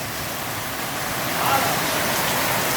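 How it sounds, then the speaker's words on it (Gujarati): A heavy monsoon downpour outside makes a dense, continuous hiss of rain. It is steady and fairly loud, with no voices over it. "અને વરસાદ બહાર કેટલો ચાલુ તમે જોવા બામ બમાટ વરસાદ ચાલુ છે"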